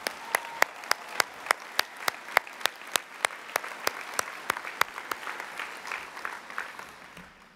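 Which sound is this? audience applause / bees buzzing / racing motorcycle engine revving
audience applause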